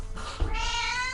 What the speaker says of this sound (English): That's my cat again. She's been fed,